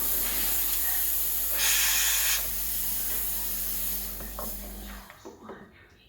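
A Breville Dual Boiler BES920 espresso machine's steam wand lets out a steady, loud hiss over a low pump hum, surging briefly before cutting off near the end, with a few clinks afterward.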